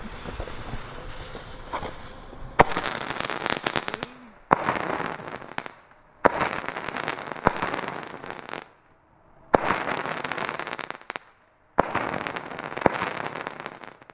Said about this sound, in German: So, Feuersturm von Weko, bitte leg los, Pyro, ja, Feuer.